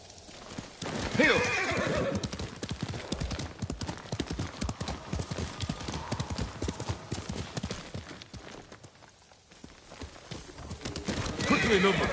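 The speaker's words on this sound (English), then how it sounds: "You're a good horse," Horse in Ghost of Tsushima gives a loud neigh near the start, then hooves clip-clop steadily at a trot throughout, close and continuous.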